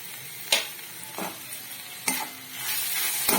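Boiled chicken pieces with sugar and tomato sauce are stirred in a hot pan, with a close sizzle and several distinct scraping spatula strokes.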